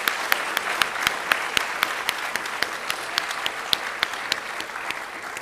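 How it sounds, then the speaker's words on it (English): A modest round of audience applause at an evening school STEM capstone event, with sparse, distinct claps standing out over a soft steady patter, fairly distant and gradually thinning. "So one last big round of applause for all these amazing people."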